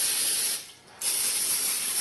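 Cooking spray hisses onto a tortilla press for wheat tortillas in two short close bursts separated by a brief quiet gap.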